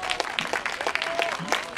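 An outdoor live concert audience in front of the National Diet Building applauds, scattered sharp claps forming a steady ripple with a voice speaking over it.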